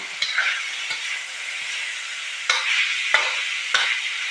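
Pork stir-frying in a hot pan with oil gives a steady close sizzle, broken by several sharp scrapes and knocks of the spatula against the pan, with no talk.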